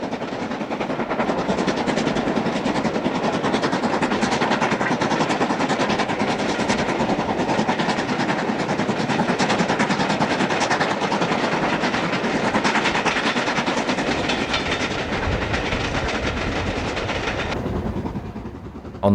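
A loud, steady rush of a passing LMS Stanier Black 5 steam locomotive at Settle, with continuous rumbling and clattering that holds for many seconds, then abruptly fades out.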